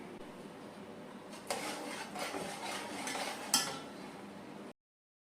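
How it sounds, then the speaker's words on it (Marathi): A spoon stirs semolina roasting in ghee (sajuk tup) in a pan for sheera, giving close scraping and rasping strokes that grow busier midway, with one sharp clink of metal on the pan and no talking. "आपला रवा भाजून घ्यायचा आहे तुपामध्ये"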